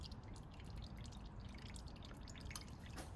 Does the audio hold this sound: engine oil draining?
yes